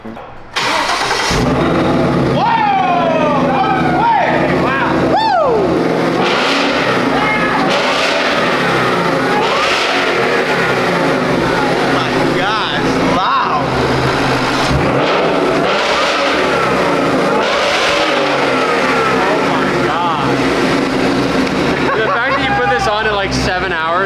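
Ford Mustang engine cranking and firing up for the first time, then revving repeatedly with rising and falling whines and a rough, loud idle throughout, with someone talking over the engine.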